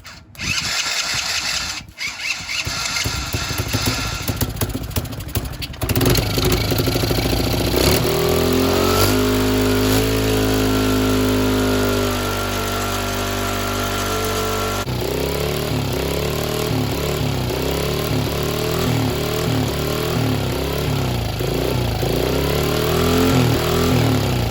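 A cheap, long-neglected mini ATV engine starts with a rough, sputtering burst, then settles into a steady, loud idle that sits high and even, with a brief rise and fall in pitch midway before running on continuously.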